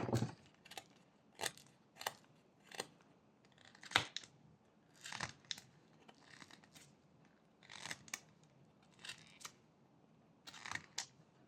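Knife whittling a 1x1 wooden block into a tortoise, carving the legs: a series of short, crisp slicing cuts into wood at an irregular pace, close and fairly quiet, with no talking.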